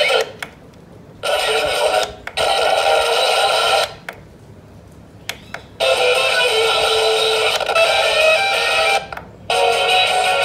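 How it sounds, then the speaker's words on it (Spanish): A Bratz toy limousine's built-in radio plays tinny, lo-fi sound through a small speaker in several bursts separated by brief silences and clicks, as if switched between tracks. "Lo más padre de esta limusina es que se le puede prender el radio."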